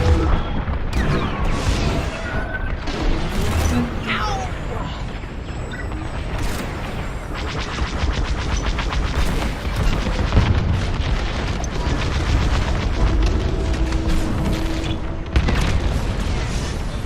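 A starship cruiser is destroyed in the Star Wars: Squadrons space battle, with a continuous barrage of heavy booming explosions, blasts and rapid weapon fire rumbling loudly for the whole stretch, and no voices over it.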